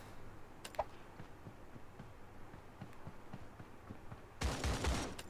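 An AK rifle fires in the Creative Destruction video game, with scattered faint shots and then a loud close burst of automatic gunfire near the end.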